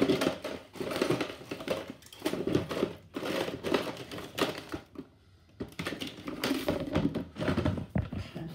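A knife cuts through a chunk of soap base for a homemade ocean-themed soap, giving irregular close crunching and scraping strokes in several bursts separated by a short pause.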